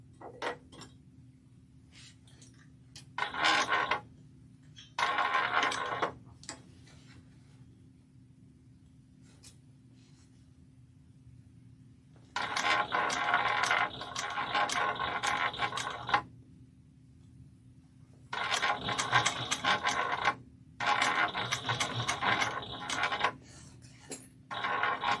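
Home sewing machine stitching through a fabric bag seam, heard as several separate bursts of fast, steady motor-driven whirring with quiet pauses between runs, close up and without talk.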